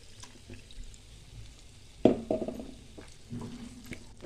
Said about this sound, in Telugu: అలాగే కొన్ని వాటర్ కూడా వేసుకుందామండి.